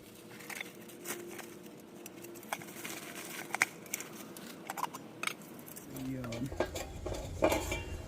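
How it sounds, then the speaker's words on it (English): A metal Kelly camping kettle being taken out and handled, with light clinks, taps and scraping rattles scattered across the clip, close and moderately quiet, ending in busier clattering handling noise. "Get the kettle itself out."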